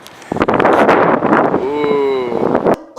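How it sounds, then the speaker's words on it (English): Wind buffets a microphone on the open top deck of a parking garage, a steady loud roar with gusty surges that almost fill the clip, while a voice sounds briefly partway through. "Windy."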